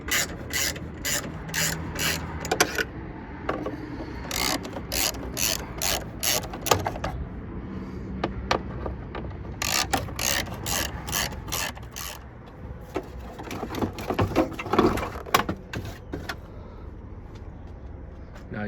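A ratchet with a T30 socket on a long extension works loose the side muffler fasteners of a Porsche 991 GT3, with repeated bursts of quick close clicking separated by brief pauses and faint handling noise.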